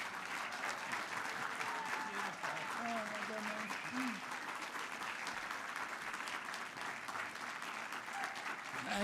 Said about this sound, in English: Please stand up and give him the applause and the thank you he deserves.